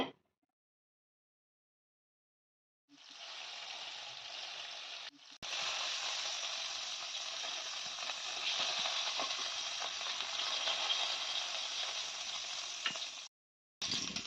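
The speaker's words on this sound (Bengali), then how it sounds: "মাছ ভাজা হয়ে গেল।" Puti fish frying in hot oil in a home kitchen, a steady loud sizzle that starts after a quiet pause, breaks briefly, then continues without pause until it cuts off near the end.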